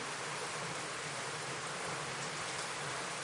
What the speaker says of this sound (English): So there is some noise because of the rain.